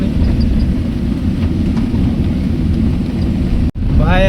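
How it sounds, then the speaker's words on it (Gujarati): Thunder rumbles loud and low through a heavy, unseasonal rainstorm, a sustained roll over steady rain that cuts off abruptly before a voice begins speaking. "આ તો ગાજવીજ કરતું."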